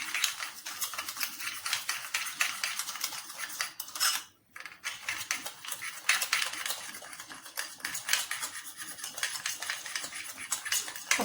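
A spoon mixing sugar in a bowl, with rapid continuous clinking and scraping that pauses briefly midway before resuming, close and fairly loud.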